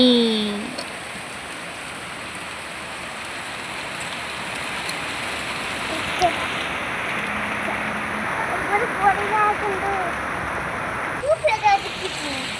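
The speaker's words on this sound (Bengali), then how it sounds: "এই যে দেখো বৃষ্টি এসে গেছে" Rain falling outside a window, a steady broadband hiss with scattered splashes and drips, continuous and fairly loud throughout, with no talking.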